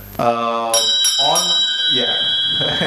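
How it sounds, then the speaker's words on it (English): An electric bell or buzzer rings out to mark the end of panel time at a technology symposium, sounding loud and sustained from near at hand, with people talking over and around it. "when the bell goes, it goes, right?"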